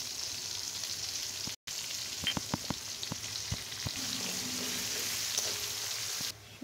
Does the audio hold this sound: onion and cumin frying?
yes